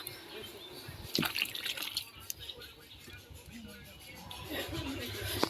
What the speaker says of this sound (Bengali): এখন মাংসগুলো ঢালছে